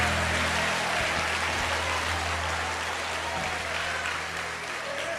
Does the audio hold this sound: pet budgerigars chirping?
no